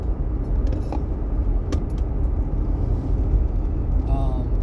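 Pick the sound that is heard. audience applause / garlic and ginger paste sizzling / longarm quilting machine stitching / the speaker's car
the speaker's car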